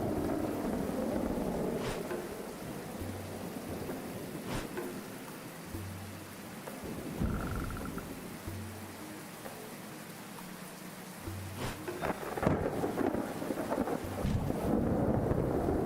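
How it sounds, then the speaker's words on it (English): Rain and rolling thunder in the video game Dead In Vinland: a steady wash of rainfall with low rumbles recurring every few seconds, with no voices over it. "It's literally raining today."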